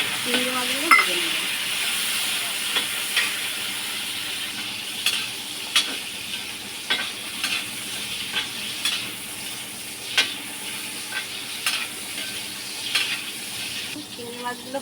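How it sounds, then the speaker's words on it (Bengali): Shrimp frying in a pan for mixed fried rice, a steady close sizzle with repeated sharp stirring clicks and scrapes spread through the clip. "চিংড়ি মাছগুলো ভেজে নেব।"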